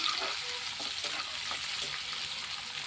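Ingredients for a prawn and cucumber curry frying in a pan, a constant soft sizzle broken by light stirring scrapes, close and without speech.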